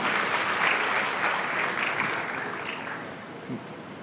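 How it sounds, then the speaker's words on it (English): A large audience at a youth event claps together in a full, sustained round that gradually thins and softens toward the end. "Give yourself a round of applause."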